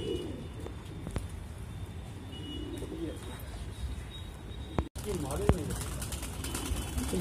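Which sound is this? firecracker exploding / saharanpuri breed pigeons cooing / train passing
saharanpuri breed pigeons cooing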